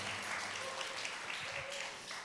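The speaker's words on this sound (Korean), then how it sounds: "박수로 좀 맞이해 주시기 바랍니다." Audience applause at a parents' school lecture, a dense steady wash of clapping held at an even level throughout, fading slightly at the very end.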